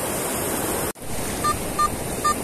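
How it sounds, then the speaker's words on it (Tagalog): Steady ocean surf rushing and hissing nearby during metal detecting on a beach, with wind noise buffeting the microphone and a few faint high beeps toward the end. "Medyo malakas pa rin yung alon."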